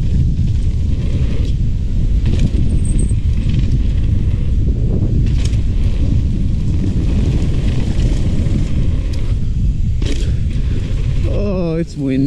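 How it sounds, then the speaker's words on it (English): Strong wind buffets the microphone at a mountain bike park, a dense continuous roar filling the whole stretch with brief gusting surges. "It's windy today."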